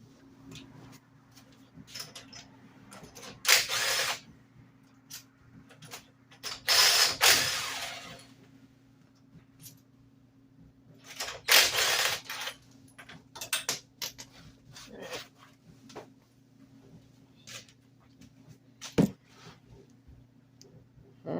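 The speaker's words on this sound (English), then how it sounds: "So, I'm gonna pull this plug back out." Ratchet clicking in bursts while a spark plug is backed out of a Geo Metro engine, with quiet pauses between the rapid mechanical ticks under a low steady hum.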